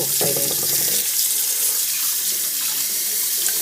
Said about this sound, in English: And I'm just going to rinse it in cold water.